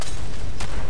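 Gunfire in Fallout 4 during a heavy firefight: a dense, loud wash of explosive shots and blasts, with one sharper crack cutting through partway, steady throughout with no clear gaps.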